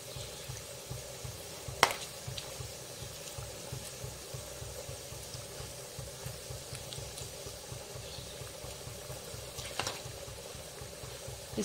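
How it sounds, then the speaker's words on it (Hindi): Paneer cubes frying in a pan while being flipped to brown, giving a low steady sizzle with a regular bubbling pulse and a couple of sharp clinks from the turning utensil. "इस तरह से हम अच्छे से पलट पलट कर ब्राउन कर लेंगे।"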